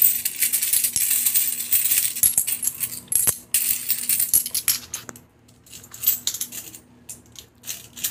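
Loose coins from a year of household savings being counted by hand, with repeated bright metallic clinks and small jingles dropping into a pile, close and irregular, thinning out toward the end.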